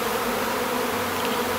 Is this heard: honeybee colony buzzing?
yes